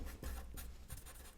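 A pen writes numbers on paper in a few short scratchy strokes, close and quiet, with brief pauses between marks.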